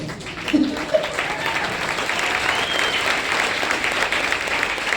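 An audience claps steadily at a talk by a former group manager, a dense, even patter of applause from many hands with a few louder claps near the start.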